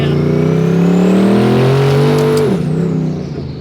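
A twin-turbo 427ci LSX Cadillac CTS-V on 40 psi boost roars hard through first gear and then shifts into second, its engine note rising steadily and dropping at the shift. The sound is loud and close throughout, with no talking.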